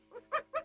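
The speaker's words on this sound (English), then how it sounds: "do stop barking, Pom-Pom" Small toy-like dog Pom-Pom gives three short, yappy barks in quick succession, close and fairly clear, the last two louder than the first.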